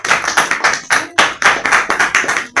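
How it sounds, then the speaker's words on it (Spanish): A small audience applauds in loose, uneven bursts of hand claps, close and fairly loud, with no voices over them. "Aplausos."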